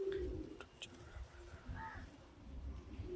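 A male Madrasi pigeon gives soft, low coos, faint and close, a few separate calls in a quiet room.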